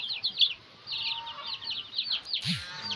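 Brown Dekalb chickens cluck and chirp softly nearby in short bursts, with a brief higher call near the end over a quiet background.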